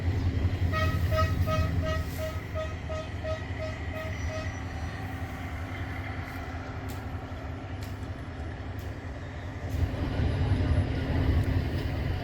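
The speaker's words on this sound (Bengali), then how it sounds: "ট্রেনের ইঞ্জিন কখনো বন্ধ হয় না" The Tista train stands at Melandaha Bazar station with its locomotive engine idling, a steady loud low diesel rumble with a repeating tonal beep early on, no talk.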